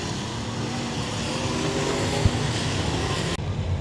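Factory stock cars in a night heat race at Super Bee Speedway roaring toward the finish line, a dense continuous engine roar from the pack, heard at a moderate distance.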